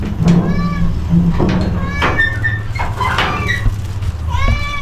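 A cat meows several times in drawn-out, rising calls, close by, with a person talking intermittently underneath.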